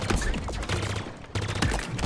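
Pulse rifle gunfire in the video game Halo Infinite, rapid bursts of shots in quick succession, loud and dense, with a brief pause before another volley.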